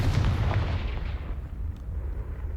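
A Confringo fire spell blasts in the video game Hogwarts Legacy, landing as a booming fiery burst that rolls off into a fading low rumble over a couple of seconds.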